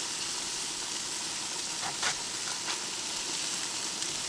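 A steak sears over a dedicated searing burner, giving a steady, close hiss and sizzle with a few faint pops and crackles rising briefly above it.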